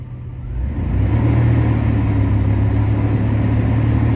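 A car engine, checked for MAP and MAF sensor readings, climbs from idle as throttle is applied, then holds a steady, fairly loud rumbling drone with no talking.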